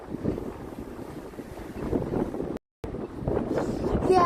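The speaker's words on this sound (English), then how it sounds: "It's really windy" Strong wind buffeting a microphone outdoors in New York City, a rough continuous roar with gusts, briefly cut out mid-clip, then rising again with faint street sounds near the end.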